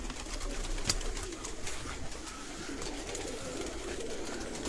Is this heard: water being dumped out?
no